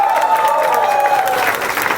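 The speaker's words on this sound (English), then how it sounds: "A big round of applause for these two." A live audience at a film Q&A applauds loudly and continuously for a couple of seconds, with crowd murmur and a few cheers blended in.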